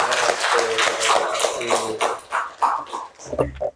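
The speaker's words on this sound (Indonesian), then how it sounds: "tepuk tangan semuanya anak-anak" Children in a classroom clap their hands together, a bright run of quick claps that thins into scattered, uneven patting near the end, with a few vocal sounds mixed in.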